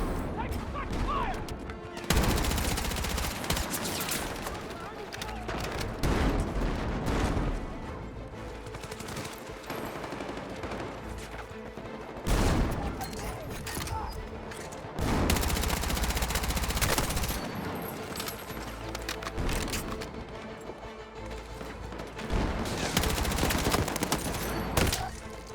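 Gunfire in the multiplayer video game Battlefield 6 on the Hagental Base map crackles in loud bursts and rapid automatic volleys with heavy impacts, while soldiers shout over the battle.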